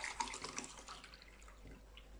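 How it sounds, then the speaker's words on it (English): Water poured from a glass into a pot holding uncooked rice for tomato potato rice, a faint, steady trickling pour lasting a couple of seconds, close to the microphone with no talking. "So I'm going to add 2 glass of same water"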